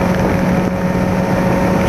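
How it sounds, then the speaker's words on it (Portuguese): Strong wind buffets a lavalier microphone clipped for a GoPro Hero3 on a Yamaha XJ6 motorcycle ride, a loud, steady broadband roar with rumbling low end filling the whole stretch, no voices. "Tá ventando muito."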